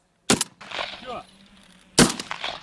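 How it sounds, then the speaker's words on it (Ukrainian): Two sharp, loud pump-action shotgun blasts at pink balloons carried on a drone, spaced about a second and a half apart, with a short shout between them. "Їх артилерист має збити за чотири постріли з помпової рушниці."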